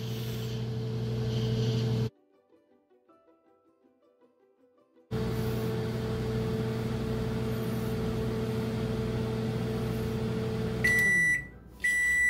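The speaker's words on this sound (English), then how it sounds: "Every microwave is a little bit different, so you might need less, you might need a little bit more." A microwave oven hums steadily while heating, cut by a few seconds of quiet as the door opens or it pauses, then resumes and ends with a couple of high completion beeps.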